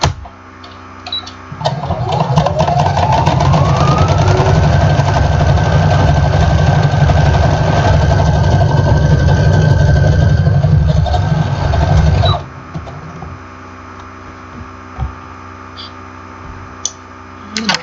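A sewing machine runs steadily for about eleven seconds, top stitching box binding on a quilt, with a loud, even motor whir and rapid needle chatter, then stops abruptly, leaving quiet room noise.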